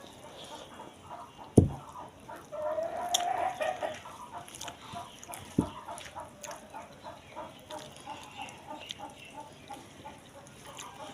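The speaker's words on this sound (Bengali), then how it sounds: "ওদিকে আমার হাঁস মুরগিও সব চলে আসছে" Farmyard chickens and ducks call near a home, with a couple of sharp clucks and a drawn-out squawk over a soft, continuous rural background.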